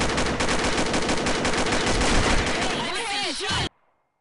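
Dense, rapid gunfire from Counter-Strike rattles continuously for several seconds before stopping abruptly, loud and close, with a brief voice near the end.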